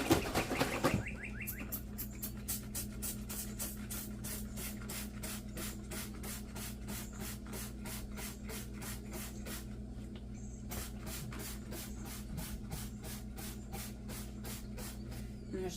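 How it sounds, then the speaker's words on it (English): A spray bottle of peroxide and water mix is pumped into a terrarium, giving a long run of quick, evenly spaced hissing spritzes, faint and close, with a brief pause partway through. "I'm just going to spray it in there."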